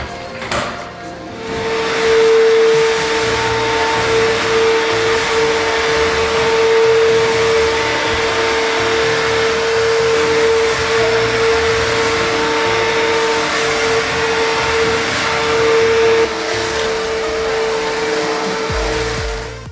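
A Bissell CrossWave Cordless Max mop and vacuum runs indoors with a steady, loud motor whine and airy rush that holds evenly for nearly twenty seconds after a short start-up.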